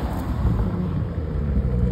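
Novitec-tuned Lamborghini Urus Esteso driving past, a brief loud low engine rumble and exhaust drone swelling slightly and holding for under two seconds, no talk.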